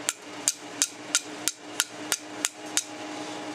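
Two rocks are struck together in repeated sharp clacks, about ten evenly spaced hits at a steady rhythm, close and distinct over quiet outdoor background.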